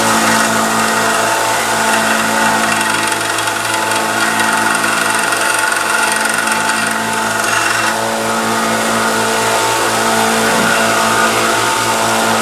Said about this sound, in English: It's probably 1400 grit, but 1000 grit sander.